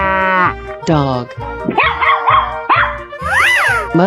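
Dog barks from a 3D animal slide-race video game: a string of loud, close, yappy calls in quick succession, mixed with a voice over them.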